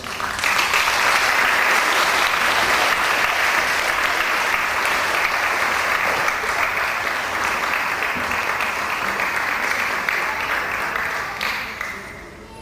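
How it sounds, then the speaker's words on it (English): Audience applause for teaching staff at a school year-end celebration, sustained dense clapping from a large crowd lasting about twelve seconds before tapering off at the end. "if anybody deserves a final round of applause, it's actually the teaching staff"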